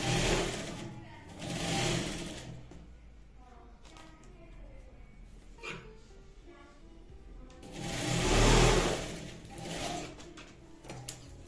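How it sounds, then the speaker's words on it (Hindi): A sewing machine stitches a zipper onto a utility bag in two loud bursts of running, separated by a quieter stretch of softer handling noise; no voices. "जिप को हमें ऐसे उल्टा रखना है, इसे सिलाई लगा देनी है।"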